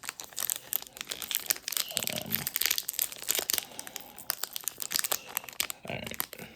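Fleer Ultra Midnight Sons trading card pack being torn open, with close crackly foil crinkling and short tearing bursts that come and go, plus a couple of heavier rustles of the wrapper.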